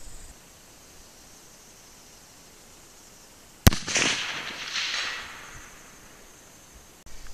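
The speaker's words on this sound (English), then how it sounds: "Gonna be shooting a Hornady 150 grain full metal jacket." A single sharp rifle report from a Howa 1500 in .30-06 firing a Hornady 150 grain full metal jacket hand load at a 350-yard target, a loud crack followed by a rolling echo that fades over a few seconds outdoors.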